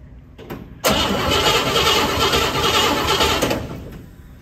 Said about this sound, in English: Now I'm going to crank the engine